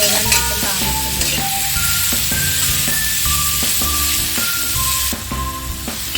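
Ripe plantain (nendran banana) frying in a pan, a steady close sizzle running throughout with soft stirring scrapes, and a slight rise in hiss near the end.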